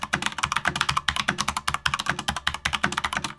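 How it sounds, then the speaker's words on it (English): Rapid, steady clacking of mechanical keyboard keys with Cherry MX RGB Speed Silver switches being typed on, close up and alone, with a brisk even rhythm throughout. "This one has Cherry MX RGB speed silvers in them that sound like this."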